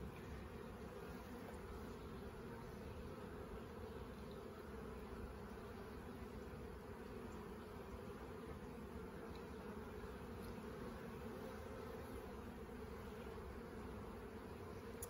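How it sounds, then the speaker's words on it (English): Honeybees in an opened brood box of a hive, a steady low hum and buzz of many insects holding at an even level throughout, with no talking. "So even though like we're opening this box and you kind of have the illusion that there's a lot of bees in here"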